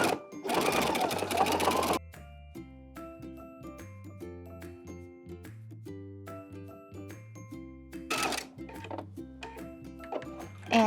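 A Viking sewing machine stitching a buttonhole runs in a steady, close mechanical whir broken by short pauses and changes of pace, with brief bursts of louder rattling as the stitching shifts.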